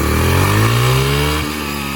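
Dirt bike engine revving hard up close, a loud sustained rising roar that holds steady, then drops slightly in pitch and eases back near the end.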